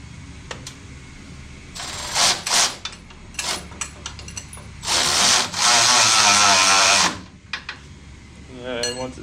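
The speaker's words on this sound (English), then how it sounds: "So started with the electric ratchet." Electric ratchet tightening a uniball bolt on a Total Chaos UCA, heard as several short whirring bursts followed by a longer sustained run, close up and loud, with clicks and handling noises between the bursts.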